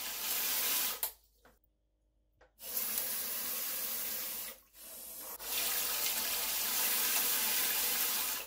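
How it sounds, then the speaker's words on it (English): Water spraying from the nozzles of a Brondell Swash non-electric bidet, a steady hiss that cuts off twice briefly before resuming, close and continuous with no talk. "Once you've selected your desired option, the water flow will start."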